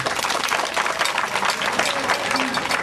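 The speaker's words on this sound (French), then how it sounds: "Salut-le par les acclamations aussi également." A crowd at a school-related gathering applauds and cheers for a president, with thick, continuous clapping filling the room and a few voices calling out within it.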